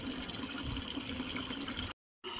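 Water runs steadily over long hair to rinse out conditioner, a close, even gushing flow that cuts out abruptly near the end for a moment of silence before resuming.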